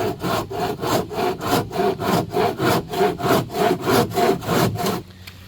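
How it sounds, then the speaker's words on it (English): A handsaw cuts through wood during beach cabin interior wall and restroom work, with about fifteen even push-pull strokes rasping at a steady rhythm up close before stopping abruptly. "a handsaw is the only way to go on it"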